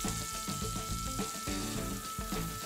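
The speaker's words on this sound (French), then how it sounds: "Placer la viande aux épices sur une grille et la faire rôtir environ 5 minutes de chaque côté" Spiced beef steak cooking on a grill gives a steady, loud sizzle and crackle throughout, close up, with no one talking.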